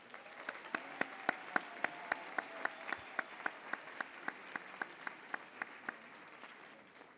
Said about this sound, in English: One more round of applause for all the award winners today.